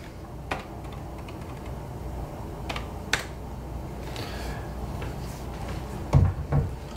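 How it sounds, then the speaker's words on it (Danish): Keys tapped on an Asus Transformer Book T100T keyboard while entering a code, a few sparse, sharp clicks spread over several seconds against a steady background hum, with a louder knock near the end. "Jeg skriver en kode."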